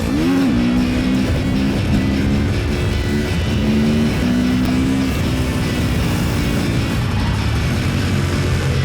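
Motorcycles racing on a track, their engines whining in loud, continuous rising and falling pitch sweeps as they accelerate and shift gears, heard close with no talking.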